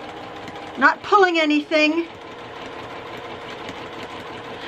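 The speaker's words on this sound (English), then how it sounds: "I'm just stitching this down, a little bit of a smaller stitch" A sewing machine stitches down layers of fabric and muslin for a vintage handkerchief cushion cover, using a small stitch. It runs as a steady, quiet hum throughout, with a brief stretch of talking over it.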